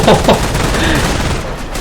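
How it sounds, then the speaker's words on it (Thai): Heavy machine gun fire from a dug-in gun emplacement in the World War II strategy game Company of Heroes: a couple of sharp loud bursts up front, then a dense rattling clatter with battle noise behind it. "ลองโหนปืนกลหนักอะมันตั้งป้อมปืนกลเห็นไหม"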